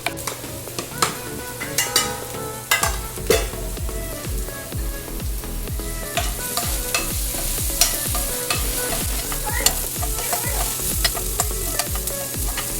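Sliced onion and capsicum stir-frying in a pan, with a continuous sizzle broken by frequent rhythmic clinks and scrapes of a spatula against the pan, close and busy, no voices.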